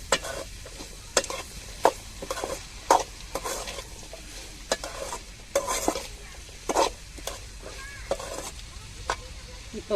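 Bitter gourd fries with onion and salt in a pan, a steady close sizzle broken by regular scraping spatula strokes every half second or so, with no voices.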